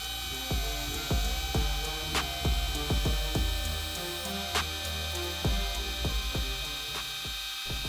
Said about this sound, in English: For each of these new tests, I'm going to be running the brushless motor for 5 minutes continuously.